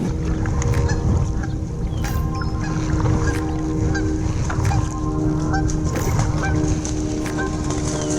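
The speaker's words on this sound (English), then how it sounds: "2 geese that were trying to take off together." Two geese on water honk repeatedly while trying to take off together, their calls loud and close over a dense background of splashing and outdoor wash.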